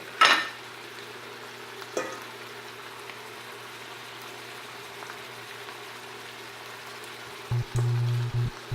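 Jerk shrimp fry in a pan with a faint, even sizzle, a clatter at the very start and another knock soon after, then a few brief tonal blips near the end; no one speaks.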